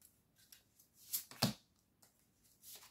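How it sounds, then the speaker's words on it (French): Several decks of tarot cards are shuffled by hand close up, with a soft riffling flutter and a couple of sharper snapping bursts in the middle and near the end, with no voice. "Je vais mélanger en fait un petit peu tous les jeux de cartes que j'ai"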